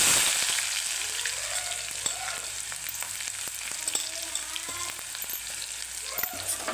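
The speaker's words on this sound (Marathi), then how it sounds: "कढीपत्ता आणि बारीक चिरलेला कांदा" Curry leaves and finely chopped onion frying in hot oil for a besan pithla, a steady crackling sizzle with scattered pops and occasional stirring scrapes, close and moderately loud.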